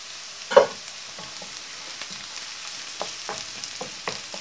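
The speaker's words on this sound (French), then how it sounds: "vous mettez une cuillère à soupe d'huile de tournesol dans votre wok. Vous faites revenir les échalotes." Garlic and shallots fry in sunflower oil in a wok: a steady sizzling hiss with scattered crackles and a sharper pop near the start, close and moderately loud, with no voices.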